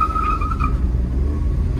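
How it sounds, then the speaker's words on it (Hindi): A CNG car spins its wheels as it pulls away in first gear on village lanes: a brief high tire squeal over a heavy, close engine rumble that continues after the squeal fades. "आप इसका व्हील स्पिन सुनना, फर्स्ट गियर में पिक करूंगा"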